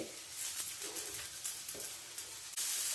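A flipped dosa sizzles steadily on a hot pan, a continuous loud crackling hiss broken by a few faint scrapes.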